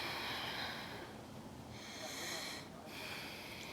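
A patient breathes in and out during a doctor's chest examination in a GP surgery: two soft, airy breaths, close and steady, with no talking over them.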